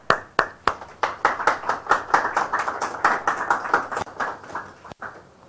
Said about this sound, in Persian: این عزیزان رو تشویق بکنین